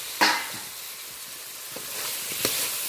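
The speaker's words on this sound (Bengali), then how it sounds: "আলুটা মশলার সাথে একটু ভালো করে কষিয়ে নেব।" Fried potatoes being stirred into a spice paste in a pan, with a steady soft sizzle under a few spoon scrapes and knocks, no talking.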